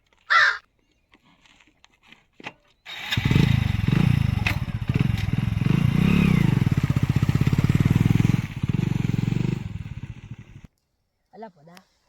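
A motorcycle engine catches and runs steadily at a close, loud idle for several seconds before cutting off, with brief voices and clatter around it.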